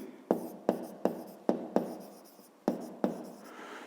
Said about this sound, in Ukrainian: Знову пишемо